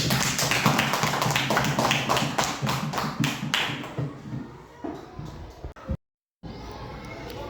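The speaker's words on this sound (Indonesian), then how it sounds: "Tepuk tangan untuk kalian semua." Students at a school class presentation of projects made from used bottles clap together in a dense burst that gradually thins and fades, ending in a short silence and quiet room noise.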